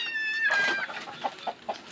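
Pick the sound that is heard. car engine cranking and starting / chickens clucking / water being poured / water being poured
chickens clucking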